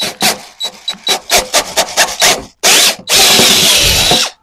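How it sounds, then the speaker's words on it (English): A power drill with a 1-inch bit starts and stops in short bursts, then grinds in two longer runs as the bit bores through a water buffer tank. It is loud and close. "you're going to use a 1-inch drill. So here's my drill."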